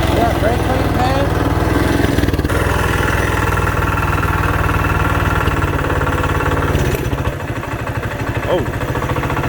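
A small budget mini bike engine runs steadily at close range, a loud buzzing, lawn-mower-like drone with a slight dip near the end, and people talk faintly over it.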